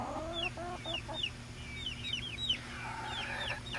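Young chickens in a small pen give soft, repeated clucks and short chirping peeps over a low background hum, moderately close and with no talking.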